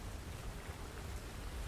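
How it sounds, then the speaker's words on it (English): Steady soft rain patters against the side of a rocking, creaking ship, a faint even hiss with no distinct drops or other sounds. "you can hear the rain pittering against the side of the ship"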